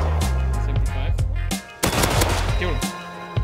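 Loud gunfire in Rust, rapid bursts of close shots over a low engine-like drone, with a brief lull before the firing resumes.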